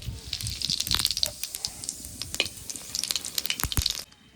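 A bay leaf, dried chillies and whole cumin crackle and sizzle in hot oil in a pan, close and lively, with dense irregular pops throughout before the sizzling cuts off.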